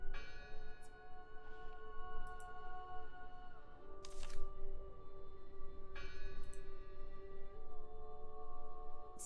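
A bell in the Draugen video game tolls repeatedly, clear ringing strikes with long sustained overtones over a low ambient hum, roughly every two seconds.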